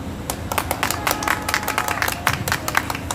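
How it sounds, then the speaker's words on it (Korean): Audience applause at a political rally: steady, brisk clapping from a crowd, continuous and fairly close throughout. "여러분 다시 한번 큰 박수 주십시오"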